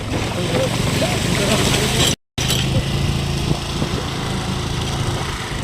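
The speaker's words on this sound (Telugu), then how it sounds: "మన బండి వెళ్తుంది ఎలా పడుతుందో" A motorbike rides over a potholed rural road between Rajolu and B. Savaram. Its light engine hums steadily and close, with a short dropout partway through, and someone talks over it.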